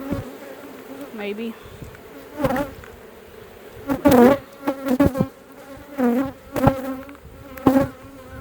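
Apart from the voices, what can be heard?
bees buzzing around a beehive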